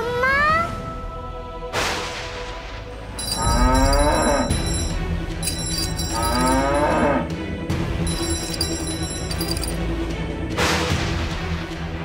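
A cow moos again and again, loud, close, drawn-out calls with rising and falling pitch, set among high tonal effects and background music.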